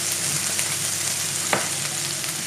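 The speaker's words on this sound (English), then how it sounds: "I'm going to cook the rainbow trout fillets in the same pan. So I put a little bit of olive oil in and pop the trout in" Rainbow trout fillets frying slowly in olive oil in a pan, a steady close sizzle with one sharp crackle partway through and no voices.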